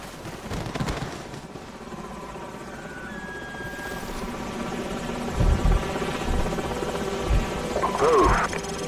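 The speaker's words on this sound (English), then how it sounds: "Enemy helicopters." Helicopter rotors in Call of Duty 4: Modern Warfare thump and drone steadily through the scene, with short voices and bursts of noise over the top.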